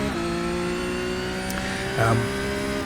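A Porsche 911 GT3 Cup (992) race car engine in the iRacing simulator drones at steady pitch with harmonic whine at the Nürburgring, then briefly shifts and revs near the end; a voice talks over it.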